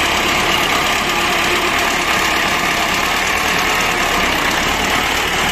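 A T40 tractor engine runs steadily while the tractor is driven, a loud, continuous mid-pitched drone with a rough mechanical rattle and no pauses or voices.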